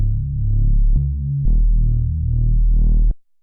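Driven melodic techno synth with analog clip distortion adding crunch, a heavy low-pitched tone shifting through a few notes with a gritty, saturated edge, played alone before cutting off abruptly.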